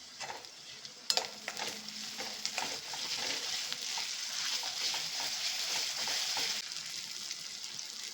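Chopped onion with ginger garlic paste frying in a pan, a close, steady sizzle with stirring scrapes and a few clinks near the start.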